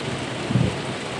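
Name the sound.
thunderstorm with rain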